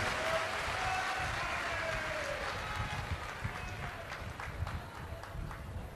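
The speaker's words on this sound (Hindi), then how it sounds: "एक बार जोरदार ताली बजाएं" Loud, sustained applause from a large crowd at an outdoor Shiv Purana religious discourse in Jashpur, Chhattisgarh, with steady clapping rolling on throughout over a low crowd rumble.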